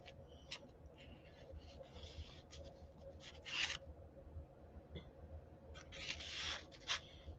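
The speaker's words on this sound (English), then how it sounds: "I'll just trim this off right there." Scissors trimming a paper craft tag, a few faint, soft snipping and rubbing strokes in a quiet room with a low steady hum underneath.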